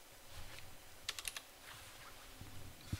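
Someone types on a computer keyboard with scattered, quiet key clicks, including a quick burst of several taps in the middle and a firmer keystroke near the end, close and with no talk.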